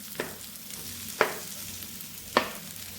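A spoon stirring boiled mashed potato into a spiced mixture in a hot pan for bread pakoda filling, with three sharp scraping knocks over a soft steady sizzle.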